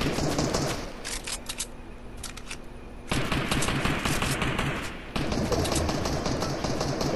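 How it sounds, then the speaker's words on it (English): Rapid video-game gunfire rattles in fast, clattering bursts, dipping briefly before two louder volleys kick in near the middle and end. "They're still shooting over there"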